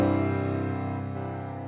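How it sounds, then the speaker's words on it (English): A 2-5-1 chord progression in Western harmony, heard as sustained harmonic chords ringing steadily with a slight change of voicing partway through, alone and without talk. "a 2-5-1 chord progression"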